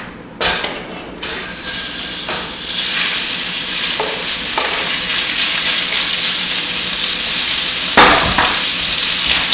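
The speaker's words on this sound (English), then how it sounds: "Slide our meat in there" Beef sliding into about two tablespoons of olive oil in a hot pan sets off a loud, sharp burst of sizzling that settles into a steady, dense fry, with a few clinks of a utensil against the pan.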